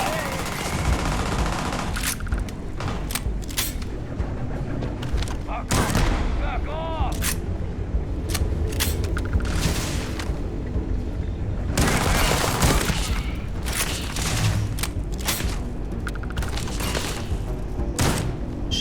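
Shotgun blasts ring out in rapid, irregular bursts during a firefight on the moon in the video game Starfield, loud and close, with a voice speaking intermittently between shots.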